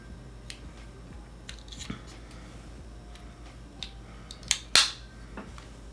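An AirPods Pro 2 charging case snaps shut with one crisp, close click near the end, after a few faint handling taps and soft rustles.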